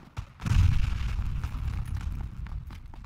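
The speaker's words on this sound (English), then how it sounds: "There's gunfire in this game." Gunfire in the battle-royale video game PlayerUnknown's Battlegrounds comes through as a heavy, close boom followed by a rolling low rumble and scattered crackles over about three seconds, with no talking.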